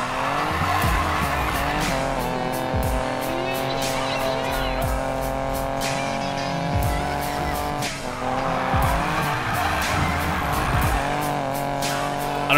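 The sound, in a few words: car engine and tire skids in Need for Speed Payback video game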